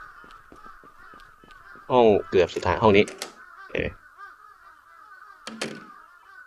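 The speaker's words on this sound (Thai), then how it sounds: "อีกามันบินเต็มเลย" Several harsh crow caws ring out in the horror game Akai Onna, a burst of loud calls followed by a few more spaced out, with someone speaking briefly.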